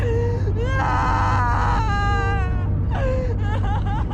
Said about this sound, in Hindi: ये तो किसी औरत के रोने की आवाज है यार।